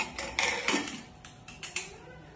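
Metal pressure cooker lid fitted onto the pot while cooking mint pulao, a few sharp clanks and scrapes of metal on metal, close and moderately loud, with no talking.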